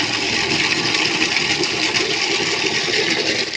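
Water pouring from a tap into a bucket, a dense, steady rushing gush that holds constant and loud for the whole stretch, then dips slightly at the end, with no talking.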